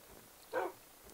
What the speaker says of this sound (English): Almost hit the dog there.